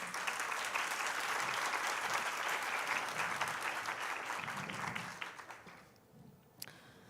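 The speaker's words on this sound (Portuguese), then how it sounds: "Agora os aplausos são mais fortes, que a gente veio do almoço." An audience at a panel event on aesthetic pressure applauds as the moderator is invited onto the stage, steady sustained clapping from a large crowd that fades out near the end.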